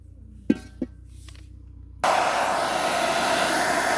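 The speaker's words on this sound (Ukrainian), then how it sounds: "таке можна робити ось звичайним феном для волосся на холодному обдуві" After a couple of faint knocks, a hair dryer on its cool setting, used to clean aster seeds, switches on abruptly and blows with a steady, loud, whooshing roar close by.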